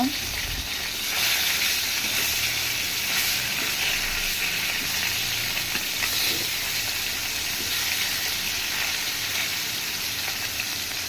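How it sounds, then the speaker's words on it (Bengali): Rohu fish, flipped to its second side, sizzling in hot oil: a dense, continuous close-up crackle and hiss with small popping bursts throughout. "মাছটা এক পিঠ ভাজা হয়ে গেছে, উল্টিয়ে দেব"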